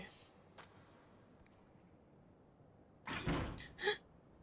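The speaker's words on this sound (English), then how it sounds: "I hear a noise like something slamming against the door." In the horror game Death Mark, something slams against a door with a pair of dull, heavy thuds. They stand out over quiet ambience after a few faint earlier knocks.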